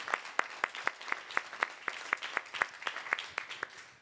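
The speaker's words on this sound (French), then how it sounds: "On va les applaudir encore une petite fois" Applause at an award ceremony for export trophies: a small audience claps in sharp, distinct, fairly regular hand claps, moderately near and not very dense, with no talking over it.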